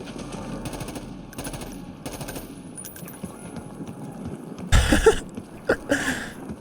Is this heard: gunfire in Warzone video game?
yes